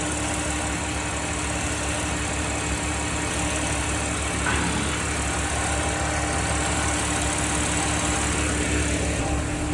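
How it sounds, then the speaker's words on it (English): An Audi B8 S4's engine idles steadily and close by, a continuous even rumble with a constant hiss and no revving or talk. "Alright, so car's on, it's idling."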